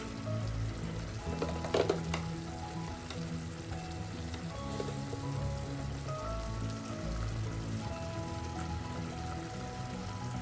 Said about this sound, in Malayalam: തിള വന്ന ശേഷം വരട്ടിയെടുക്കാം.